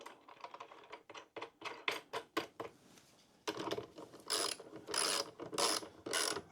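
Nuts and bolts are tightened by hand on a solar fuse holder, giving a string of quick, close metallic ratcheting clicks followed by several louder, longer grinding turns.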